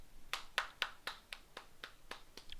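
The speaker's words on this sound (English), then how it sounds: "I'm clapping for you guys." About ten crisp single hand claps at an even, moderate pace, close and fairly quiet, with nothing else competing.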